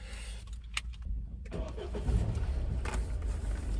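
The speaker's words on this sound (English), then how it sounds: "Start the engine." A van engine cranks briefly in sub-zero temperatures and catches, then settles into a steady low rumble close by, after a few clicks and rustles.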